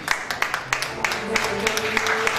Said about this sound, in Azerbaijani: Gürültülü alqışlar istəyirəm dostlar